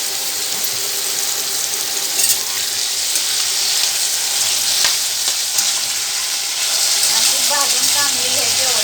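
Potatoes fry in hot oil for sabudana khichdi, giving a loud, continuous hiss and crackle of sizzling close by. Occasional stirring adds scrapes and small bursts to the frying sound.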